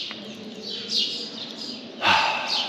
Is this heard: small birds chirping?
yes